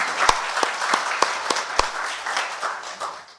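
Audience applause for a doctor's presentation at a Korean forum on improving traffic-vulnerable protection zones: a steady patter of many hands with a few sharp, louder claps standing out, gradually thinning toward the end.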